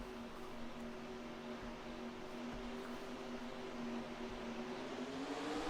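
Race cars in a NASCAR racing video game roll off behind the pace car at the start of a Coca-Cola 600 session, a faint, steady engine drone that slowly rises in pitch with no talk.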